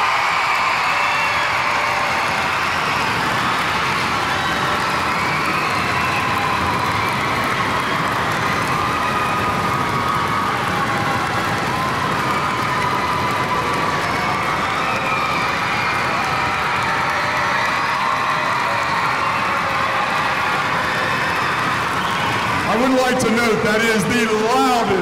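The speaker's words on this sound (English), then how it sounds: "That is the loudest cheer for all of them." A school concert audience cheers and applauds the music teachers, with a loud, sustained roar of crowd noise filling the whole stretch before it starts to fade at the end.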